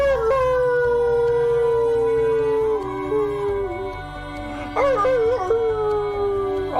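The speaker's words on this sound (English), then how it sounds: "All the dogs in the pound howling at the same time." Many dogs in a pound howl together, long, loud, close howls sliding downward in pitch and overlapping, with a fresh rising wail starting partway through.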